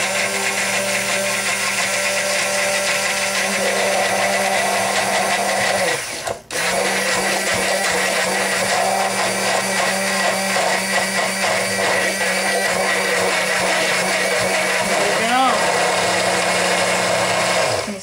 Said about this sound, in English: So I'm going to get the blender going and start pouring